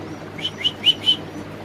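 Danish pigeons at a busy pigeon market make a few short chirping calls, about four quick notes in a row, close and moderately loud over a faint background murmur.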